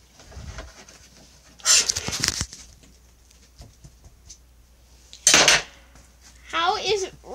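A butter knife coated with peanut butter is rubbed, giving short, bright metallic clatters and scrapes in a few separate bursts. A brief vocal sound comes near the end.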